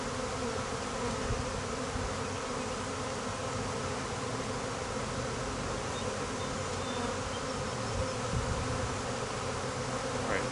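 A dense, steady drone of many honeybees buzzing around an open hive fills the air continuously during a spring hive inspection, loud and close with no pause.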